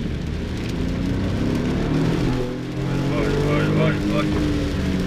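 Alfa Romeo Giulia Quadrifoglio engine revving hard at high rpm inside the cabin, a continuous rising roar with road noise under it.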